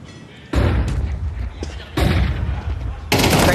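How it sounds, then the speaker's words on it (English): Flashbang grenade going off in a competitive shooter video game, with several sharp loud bangs and bursts of gunfire over a few seconds, a caster's voice faintly underneath. "Great flashbang."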